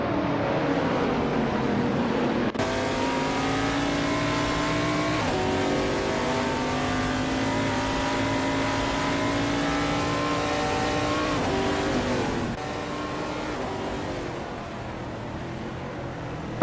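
Race cars in a racing video game roar continuously at close range, their engines whining and shifting pitch as they jockey for position, with abrupt gear changes and no talk over the steady drone.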